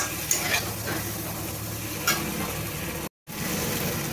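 Potato and pumpkin stir-fried with ginger and spices in a pan, a steady close sizzle with a few scraping stirs, briefly cut by a moment of silence.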